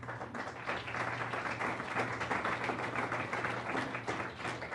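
An audience at an Academy of Art university event on the future of television breaks into steady applause, many hands clapping together in a dense wash of sound that holds level for several seconds with no talking over it.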